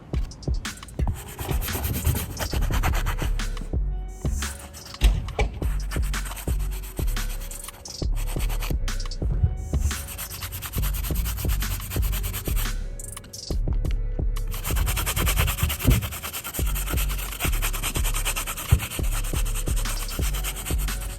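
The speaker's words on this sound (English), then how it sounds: "We will then use the medium bristle brush to clean the midsoles," A medium bristle brush scrubs the midsoles and soles of Crocs in steady, loud, close back-and-forth strokes, with a few short pauses between bursts and no talking.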